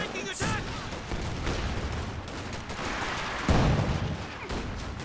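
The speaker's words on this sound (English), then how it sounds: "The M8A1s are such good mobile light artillery." M8A1 mobile light artillery fires in a Company of Heroes 2 world championship match, making repeated distant booms and crackling gunfire within a busy battle soundscape.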